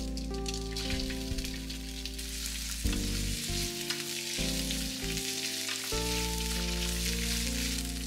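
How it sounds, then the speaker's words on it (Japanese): Crab sticks and green pepper sizzle in hot oil in a pan, a loud, steady hissing crackle with soft stirring noises over a faint background melody. "カニカマ、ピーマンを入れてオイルを絡めていきます"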